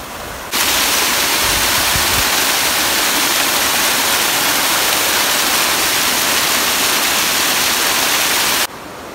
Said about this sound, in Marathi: इथे वावराच्या खाली बघा कसा धबधबा आहे